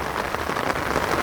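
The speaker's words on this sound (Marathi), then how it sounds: "पावसात भिजून घेत आहेत" Steady rain falls outdoors over a Konkan farm field during crab hunting, a dense even hiss of drops on the surface that stays close and constant, with no talk.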